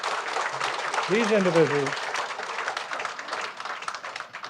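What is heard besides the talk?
audience applause for award nominees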